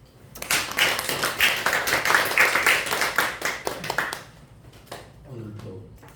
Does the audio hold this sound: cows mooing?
no